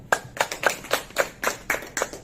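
An audience at a health seminar claps in slow unison, nine or so sharp, evenly spaced beats ringing out clearly with no talk over them.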